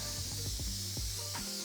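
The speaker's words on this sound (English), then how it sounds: "Give it a quick spray." A quick burst of cooking spray hisses onto a panini press while an Italian chicken panini is being made, one steady close spray lasting under two seconds.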